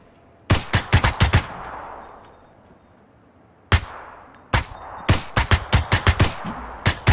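Automatic M16 rifle fire in PUBG comes in rapid bursts of sharp, loud cracks, a short volley, a pause with fading echo, then a single shot and longer chattering bursts.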